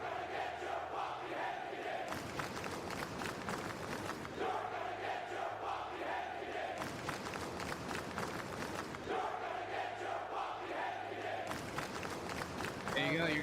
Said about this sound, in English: crowd letting Perch know that Tony Ward is out for revenge